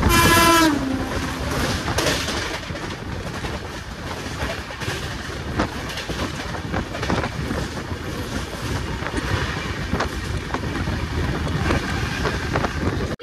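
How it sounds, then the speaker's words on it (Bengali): The 18046 Hyderabad–Shalimar East Coast Express passes close by, opening with a loud horn blast and then a sustained, dense roar of rolling wheels and rattling coaches. "এবার আমাদের সাথে দেখা হবে ট্রেন নাম্বার 18046 হায়দ্রাবাদ থেকে শালিমার ইস্ট কোস্ট এক্সপ্রেস সাথে।"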